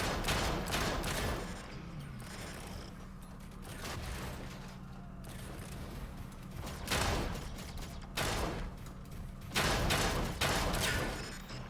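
Rapid bursts of gunfire with mechanical clatter in the sci-fi shooter video game Carbon, sharp volleys repeating at irregular intervals over a steady low hum.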